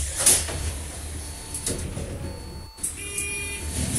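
Rear doors of a London bus on route 69 in a bus driving game, a mechanical sliding and pneumatic operation with a brief hiss and door-motion noise over steady engine hum, with a chime-like tone near the end.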